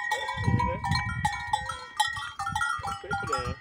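A goat and her newborn kid in the Brazilian Nordeste bleat close by, alongside ringing livestock bells.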